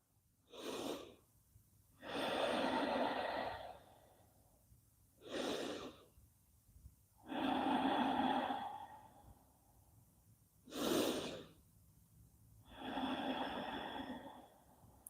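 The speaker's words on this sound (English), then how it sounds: "Let's do 5 deep breaths. Inhale and exhale through the nose." Slow, deep nasal breathing during a yoga session: three full cycles, each a short inhale followed by a longer, airy exhale, close and clear against a quiet room.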